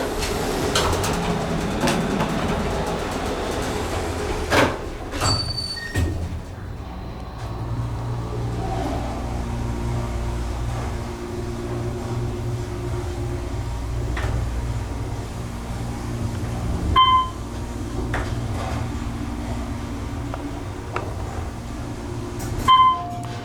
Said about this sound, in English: I want to let you listen to this motor going up.